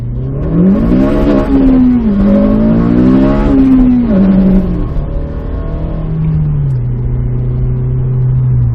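A Honda car accelerates hard on a wet road, the engine note climbing in several rising sweeps between gear shifts before settling into a steady drone, loud and close from inside the cabin.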